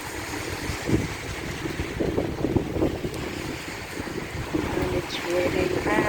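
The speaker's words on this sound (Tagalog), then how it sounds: "So windy." Strong wind gusts roar through heavy rain on flooding roads, a steady dense rush of wind noise with pattering water that swells and eases across the whole stretch.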